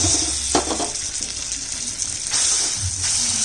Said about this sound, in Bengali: মাছ ভাজা তেলে একটু ভেজে